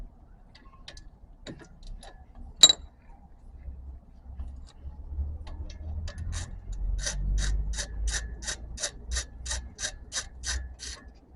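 A ratchet wrench works loose the 14 mm brake bolts on a 2014 Scion xB, with a few scattered clicks and then a fast, even run of close metallic pawl clicks.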